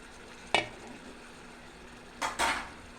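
Cow trotters are sautéed with meat spices in a pot, and a utensil clanks against the metal once and then twice in quick succession over a faint, low sizzle.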